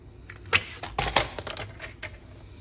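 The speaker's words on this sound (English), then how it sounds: "I could just put this on my trimmer instead of drawing a line" A paper trimmer slices through cardstock with a few sharp, close clicks and a scraping slide of the blade, loud against a quiet room.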